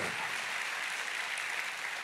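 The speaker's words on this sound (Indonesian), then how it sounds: "Kasih tepuk tangan dulu yang paling meriah buat Tuhan." Congregation applauding during a church sermon on marriage, a steady dense wash of clapping that holds evenly throughout without a break.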